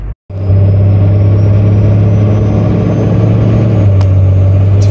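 Cummins-powered truck hauling a loaded excavator, its engine droning loud and close as it pulls in first gear after a brief pause, a deep steady tone with a slight rise near the end.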